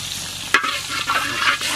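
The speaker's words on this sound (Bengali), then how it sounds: "দিয়ে দিলাম সর্ষের তেল।" Mustard oil is poured into a hot wok, starting with a sharp splash and then a bright, continuous sizzle with faint crackles close by, and no one speaks.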